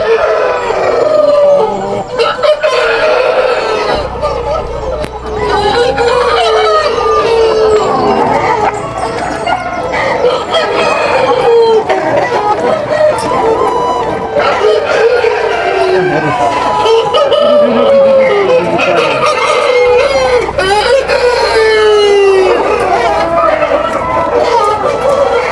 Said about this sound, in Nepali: यत्रो भाले